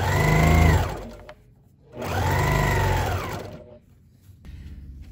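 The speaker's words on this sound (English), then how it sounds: "I can come back with my sewing machine and stitch that down" A sewing machine whirs through two bursts of stitching on quilted fabric, each lasting about a second or more with a pause between, close and fairly loud.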